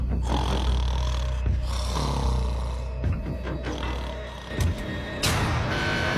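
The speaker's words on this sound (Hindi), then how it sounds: "वो स्टूपिड कॉप सारी रात खर्राटे मारता रहा।" A man snores loudly through the night in a jail cell, with deep, rasping, rumbling breaths that repeat in a slow rhythm and stay close and heavy throughout.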